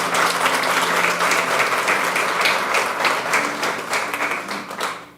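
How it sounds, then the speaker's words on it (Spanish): A church congregation claps loudly in praise, a full, continuous wall of hands that holds steady and then starts to thin out and fade near the end. "dale fuerte el aplauso al Señor"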